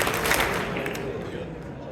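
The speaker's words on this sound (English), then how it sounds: "If you can hear me, clap twice." An audience at a coalition brunch claps on cue, a dense wash of many hands rising into steady applause that fills the room and holds for a couple of seconds before easing slightly.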